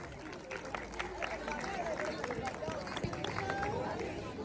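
Village crowd at an education gathering clapping for children, a continuous crackle of many hands with murmuring voices underneath.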